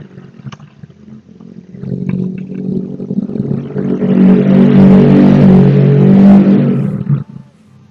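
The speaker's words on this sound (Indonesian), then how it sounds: "Kan dengar sendiri kan kalau ada motor lewat ya, segitu berisiknya kalau di rumah ya." A motorbike passes outside a house, its engine noise swelling from a low rumble to a loud, broad roar at its nearest, then cutting off quickly as it moves away.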